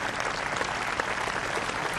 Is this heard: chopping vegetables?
no